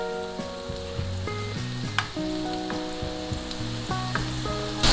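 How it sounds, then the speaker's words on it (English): Mutton keema balls fry in hot oil with a continuous crackling sizzle, heard close up beneath prominent melodic background music, with a few faint clinks along the way. "now let it fry for 3 more minutes."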